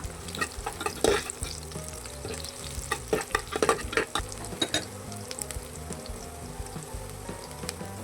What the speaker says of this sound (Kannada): ಈರುಳ್ಳಿ ಕಂದು ಬಣ್ಣ ಬರೋ ಗಂಟ ಚೆನ್ನಾಗಿ ಫ್ರೈ ಮಾಡ್ಕೊಳ್ಳೋಣ